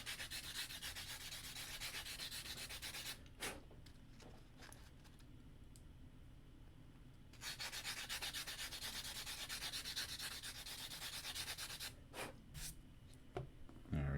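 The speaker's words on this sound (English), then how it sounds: "You just gotta sand it off." Broken-off edges of a PCB being sanded by hand, a loud, close, continuous gritty rasp in long back-and-forth passes, pausing briefly twice before resuming, with no talking.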